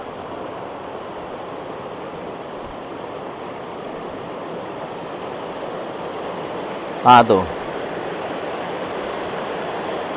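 Water from the final outlet of a fish pond system flows back into the Ciampea River in Bogor, a steady rushing wash heard throughout, with a short spoken interjection briefly over it.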